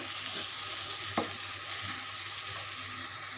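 A pan of ginger, garlic, cumin paste, green chili, onion, turmeric and rice stir-fried for khichuri makes a continuous bright sizzle with occasional soft scraping strokes, close and steady, no talking.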